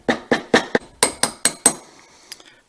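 Socket tapped against a seal to seat it in an oil-less vacuum pump: eight crisp, ringing metallic taps in a quick, even rhythm, close and loud, then a couple of fainter taps after a short pause.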